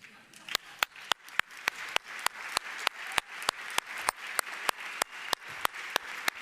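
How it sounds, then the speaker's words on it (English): Applause at a tech conference in Munich, a soft crowd wash punctuated by one loud, close pair of hands clapping in a steady, even rhythm. "Can you please stand up and harvest a little bit of applause?"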